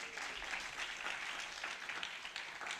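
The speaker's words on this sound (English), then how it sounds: "A clap for her, please." An audience at an academic literature association's closing ceremony claps steadily for an introduced professor, a dense, even wash of many hands heard from a distance, with no speech over it.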